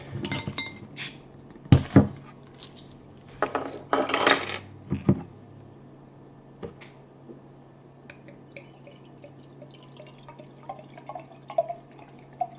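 A can of Fonta Flora Rind beer, 4.2 ABV, cracked open up close, with sharp metallic clicks and a brief fizzing hiss, then quiet clinks and faint drips as it settles, no speech.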